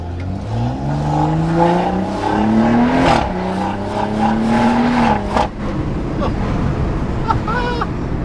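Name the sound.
hybrid turbo BMW M140i with full exhaust and downpipe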